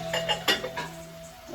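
Cooked lima beans tipped into a pan for a Jamaican stew, giving a few light clinks and scrapes against the metal, close up, with a steady hum underneath and no talking.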